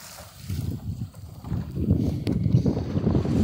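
The schooner Centennial sails under full sail, a low rumbling rush of wind and water against the hull that builds and then holds steady, with no voices.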